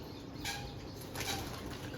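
Two quick bursts of flapping wings as pigeons take off, fairly close, with steady background noise and no talking.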